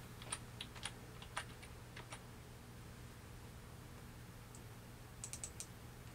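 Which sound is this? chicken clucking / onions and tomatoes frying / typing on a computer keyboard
typing on a computer keyboard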